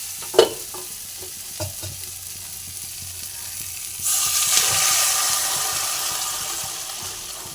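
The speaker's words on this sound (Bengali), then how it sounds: "এবার আমি এর মধ্যে জল দিয়ে দেবো।" Water poured into frying masala of oil and melted tomato in a pan, bursting into a loud rushing sizzle midway, after a few faint clinks and stirring scrapes in a quieter opening.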